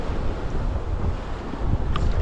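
Wind buffets the microphone over steady surf and waves at a sea island off Mumbai during cast-net fishing, a continuous loud roar with no voices.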